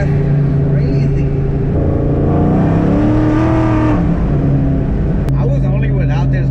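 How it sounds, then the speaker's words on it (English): A Ford SVT Cobra Terminator is being driven, its engine droning close by from inside the car and swelling in pitch midway before settling back. "now that we're finally in the car and it's driving better than it ever has ever before"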